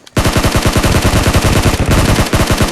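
Rapid automatic gunfire in the battle royale game PUBG, played on a POCO X3 NFC phone in Bootcamp: a loud, sustained burst of close shots in fast rhythm, lasting nearly three seconds with a brief dip midway.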